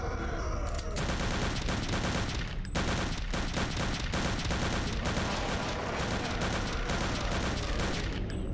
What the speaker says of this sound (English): And I need to burst fire.